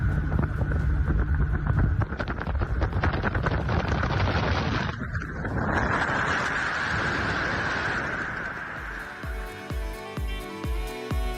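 Souped-up boat fitted with a huge motor, roaring loudly at high speed with heavy wind buffeting and water rush, the roar swelling midway before giving way to a series of low thumping pulses near the end.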